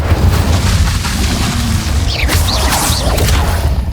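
Incendio fire spell cast during combat in Hogwarts Legacy, a loud whooshing burst of flame over a steady rumbling low drone, with bright crackling swirls rising midway and continuing to the end.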